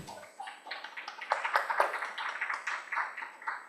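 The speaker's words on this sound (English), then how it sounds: "please welcome them with your applause" An audience at a marketing festival claps in welcome, a moderate crowd of scattered hand claps that builds quickly and holds steady.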